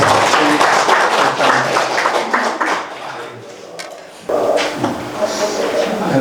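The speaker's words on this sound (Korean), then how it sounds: "큰 박수로 맞이해주십시오" Audience applause welcoming Professor Lee Ki-dong to a lecture at a Gyeongnam Confucian college class, steady dense clapping filling the room, with a brief dip before it swells again.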